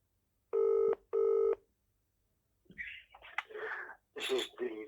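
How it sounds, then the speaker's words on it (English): Telephone call to a city council legal department: two loud, even dial tones of equal length, a short gap, then a quieter ringing tone pattern that repeats unevenly at the end. "Ringing up Graeme Kenna, City Solicitor for Bradford Council, Adult Social Services."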